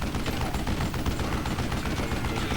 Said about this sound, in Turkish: Bir de tüfek deneyelim bakalım.